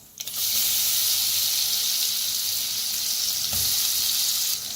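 Ground spice paste for kadhi vada, with mustard seeds, cumin and asafoetida, fries in hot oil with a loud, steady, close sizzle that starts abruptly and holds to the end.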